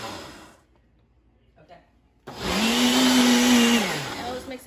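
A Ninja blender whirs loudly up to speed mixing a green smoothie, a steady close roar after a quiet stretch with faint voices.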